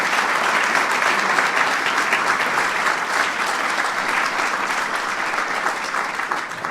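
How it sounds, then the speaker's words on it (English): A large audience applauds steadily for two members of Congress at a formal political event, a dense, loud, sustained clapping with no pauses. "Give them a big round of applause."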